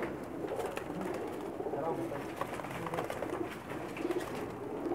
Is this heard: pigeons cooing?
yes